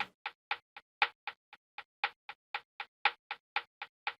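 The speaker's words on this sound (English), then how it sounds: "In the background of the melody, we have this hi-hat pattern." Hi-hat pattern from a music production beat, a steady run of crisp, short ticking hits about four per second with varying accents, played alone and fairly quiet.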